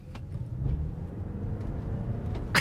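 A 2023 Lexus NX450h+ F Sport plug-in hybrid with all-wheel drive accelerating at full throttle, heard from inside as a steady low engine and road roar that holds for a couple of seconds, with a brief louder burst at the end.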